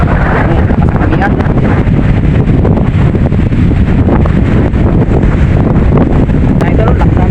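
A strong northeast monsoon wind blows at sea off Palawan, a loud, constant roar and buffeting that batters the microphone without a break.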